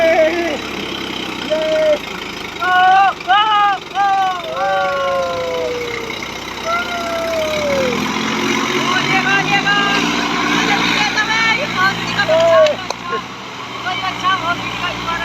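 A tractor engine runs steadily under a stunt or show setting, with shouting voices and music-like tones over the continuous engine drone.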